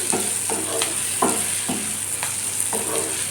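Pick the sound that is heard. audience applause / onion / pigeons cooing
onion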